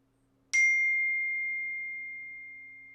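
A single clear phone notification ding rings out in a quiet room, a sharp strike followed by a long, slowly fading tone.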